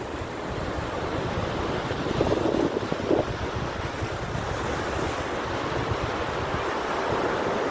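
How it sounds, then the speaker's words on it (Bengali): Ocean surf at Mandarmani beach roars steadily in the distance, blended with heavy wind buffeting the microphone, a constant washing rush without distinct breaks. "ওই যে দেখো ওই ঢেউ সেই লেভেলের ঢেউ"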